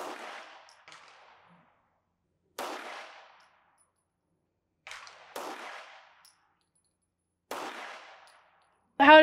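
Four single shots from a Tisas Carry B9 1911 9mm pistol at a range, each a sharp loud crack with a short decay, spaced a couple of seconds apart.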